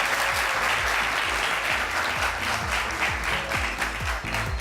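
Audience applause from a crowd at a live event, a dense, steady wash of many hands clapping that stays loud and close throughout with no pauses.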